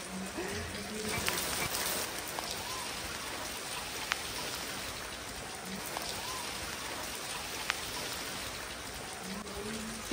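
Rain falls steadily on the leaves of a guava tree outdoors, a continuous broadband patter with scattered louder drops, fairly close and moderately loud throughout, with no talking.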